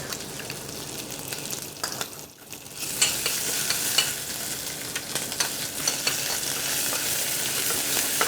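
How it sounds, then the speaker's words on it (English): Ginger and garlic fry in a pan with a steady close sizzle and crackle, stirred now and then, with a brief dip before the frying swells again. "So while the ginger and garlic are cooking,"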